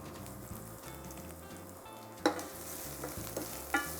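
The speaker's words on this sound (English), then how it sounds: "Give it a stir." A spiced coconut mixture of pounded cumin, garlic and green chili sizzles in a pan, with a steady fry and a few sharper spoon clinks and scrapes as it is stirred.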